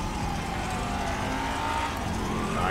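A damaged car still driving hard in GTA 5 during a police chase, a steady loud engine drone with a continuous roar and slight rising pitch, no pauses.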